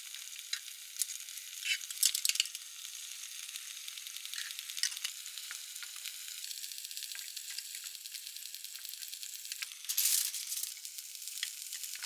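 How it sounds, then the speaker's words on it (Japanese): Pumpkin slices fry in butter in a pan, giving a steady, close sizzle with soft crackles throughout and a brief louder hiss near the end, with no talking. "かぼちゃはバター焼きにします。"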